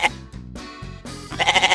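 On a backyard goat farm, goats bleat loudly and close by. Several wavering calls come one after another, and the last one quavers rapidly.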